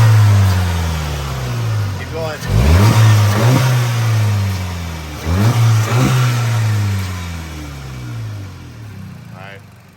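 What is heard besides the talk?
VW MK7 GTI 2.0T with APR carbon intake revving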